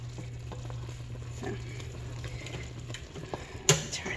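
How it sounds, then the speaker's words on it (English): Kiwi jam boils hard in a pot on a stove, a steady bubbling, sizzling churn close up with a sharp clatter near the end and one brief spoken word. "You can see how hard it's boiling now."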